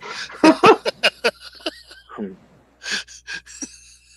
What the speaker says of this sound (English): that's my snoring cat again.